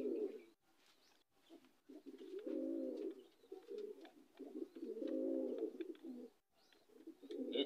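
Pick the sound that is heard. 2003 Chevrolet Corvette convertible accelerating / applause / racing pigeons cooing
racing pigeons cooing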